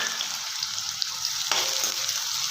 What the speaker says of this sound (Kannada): ಈರುಳ್ಳಿ ಕಲರ್ ಚೇಂಜ್ ಆಗೋವರೆಗೆ ಹುರ್ಕೊಳ್ಳೋಣ.